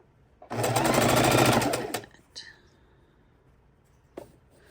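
A sewing machine runs in a fast, buzzing burst of stitching through quilt fabric for about a second and a half, then stops, followed by a few faint clicks.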